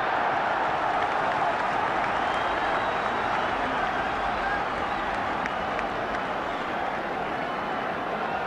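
At a 1978–79 Wolves football match, a large stadium crowd cheers and claps to encourage Wolves, a steady, distant wash of roaring and applause that holds at the same level throughout.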